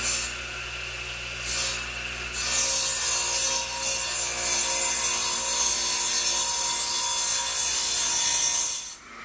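A hand saw cuts through wood on a workshop bench, making a steady rasping stroke that starts quietly and grows louder and continuous from about two seconds in, with no talking.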